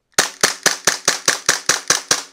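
An Umarex licensed replica of a Glock pistol fires about ten sharp, snappy shots in quick, even succession, each a crisp crack close to the microphone with a short decay and no voices.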